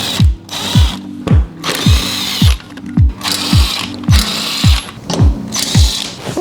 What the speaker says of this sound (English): underneath here, we're going to take off these torque screws with the T27